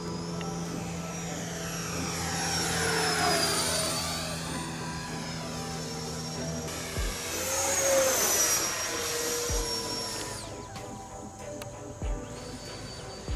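A Freewing Zeus 90mm electric ducted-fan RC jet makes high-speed passes and snap rolls, its whining turbine-like scream rising and falling in pitch with strong Doppler sweeps as it approaches and recedes overhead.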